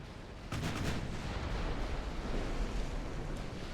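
Heavy warship main guns firing in the naval battle game Ultimate Admiral: Dreadnoughts, a deep boom that swells into a sustained rumbling roar with sea-like noise, no talking.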